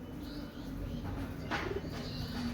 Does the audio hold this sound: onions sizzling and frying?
no